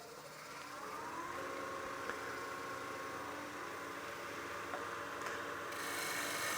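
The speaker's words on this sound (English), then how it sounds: "then we'll do a shear scraping pass across the surface" A wooden platter turning on a lathe is shear scraped with a tool, giving a steady, continuous rasping hiss with a faint whine that holds evenly throughout.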